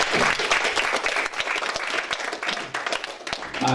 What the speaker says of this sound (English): So can we have a round of applause, please, for Richard Jobson?